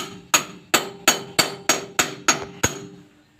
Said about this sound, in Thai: ตอกไปเลย